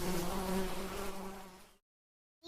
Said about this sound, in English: The bees bring pollen and nectar back to the hives to store in the honeycomb.